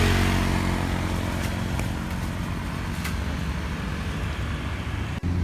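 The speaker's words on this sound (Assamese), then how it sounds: "পাছফালে গাড়ী এখন আহি আছিলে মানে স্কুটাৰ এখন আহি আছিলে গমেই নাপাওঁ লাহে লাহে আহি আছে" A scooter rolls slowly up from behind along a busy Thai market street in Nakhon Pathom, a steady low engine drone blending with roadway noise and no horn.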